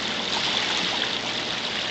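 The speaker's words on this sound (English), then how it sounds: "at the inlet where the water flows out of the stream" Stream water flows into Crescent Lake at the inlet, a steady close rushing and trickling wash with no voices over it.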